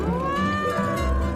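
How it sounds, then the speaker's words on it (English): A drawn-out meow, probably voiced by a person reading a farm picture book aloud, holds steady and close for over a second with a rising and falling pitch. ""Meow," said Cat."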